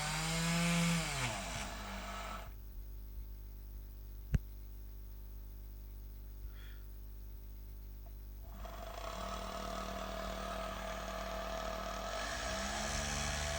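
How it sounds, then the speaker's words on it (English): An electric motor spins a jet engine compressor on a DIY RPM-sensor test setup, producing a steady hum held at constant speed through the middle of the clip, with a brief click near the start. "as we turn the control knob, we can control the RPM of this test setup."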